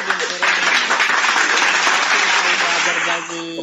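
An audience applauds Erben at a church talk session, a dense, steady wash of many hands clapping for several seconds, loud and close, tapering slightly near the end with voices mixed underneath.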